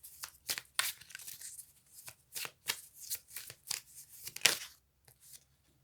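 Cards from the Dixit board game are handled and shuffled at close range, giving a string of quick riffling and flicking bursts with short pauses between them, quiet overall and trailing into silence at the end.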